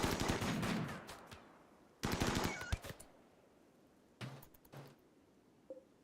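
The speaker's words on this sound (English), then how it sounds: "Sounds like the porcupine found our turrets." Automated turrets fire rapid bursts in the game Rimworld, several separate volleys of crackling gunfire with short pauses between, loud and alone without talk.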